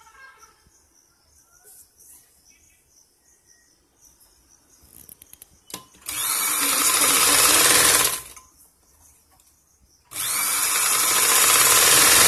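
Sewing machine stitching a quarter-inch seam on a blouse sleeve, running in two loud, steady bursts of a couple of seconds each after some quiet handling noise.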